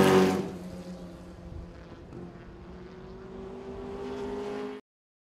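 A 1954 Kaiser Darrin fiberglass-bodied roadster drives along with a steady, low engine drone that rises slightly as it accelerates, close and alone, then cuts off abruptly.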